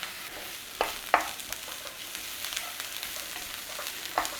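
Soft continuous sizzle of food cooking in a pan, punctuated by a few sharp scrapes and taps of a utensil stirring, close by and fairly quiet.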